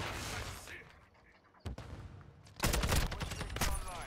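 Gunfire in the video game Modern Warfare II: a faint early burst, a single sharp shot near the middle, then a loud sustained volley of rapid shots toward the end, with background game noise throughout.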